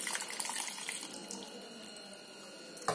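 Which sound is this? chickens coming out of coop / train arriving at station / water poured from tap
water poured from tap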